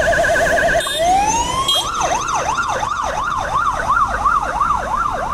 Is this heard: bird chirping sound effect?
no